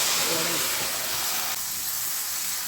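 Puree of eight blended tomatoes hitting hot oil in a pan for egg curry, a loud steady hiss and sizzle that eases slightly after a second and a half, close by.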